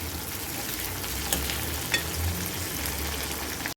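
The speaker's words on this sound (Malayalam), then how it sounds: "എണ്ണ ചൂടായി. അതിനകത്ത് ഞാൻ 1 സ്പൂൺ കടുക് ഇട്ടു, പിന്നെ 1 സ്പൂൺ ജീരകവും കൂടി ഇടുവാണേ." Mustard seeds and cumin sizzle in hot oil in a pan, a dense, steady crackle up close with a couple of sharper pops partway through.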